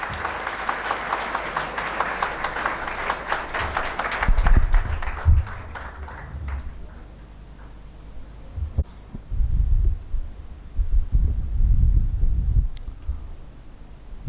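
A seminar audience in Begusarai claps steadily and densely for several seconds to welcome the speaker. The applause then fades into a quiet hall with a few low thumps.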